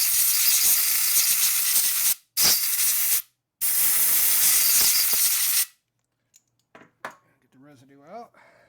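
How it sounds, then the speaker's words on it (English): A compressed air line blasts across the top of a motorcycle engine, three long loud hissing bursts with brief gaps, followed by quieter clicks and a short spoken remark. "Take an airline and blow off the top."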